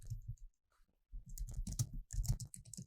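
Computer keyboard keys are pressed for the Ctrl+A select-all shortcut, giving a quiet run of soft clicks and taps that starts after a short pause and continues in close, irregular bursts.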